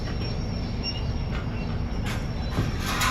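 A train rumbles steadily in the distance at Flåm in the Norwegian fjords, a low continuous roar, faint metallic squeals rising briefly near the end.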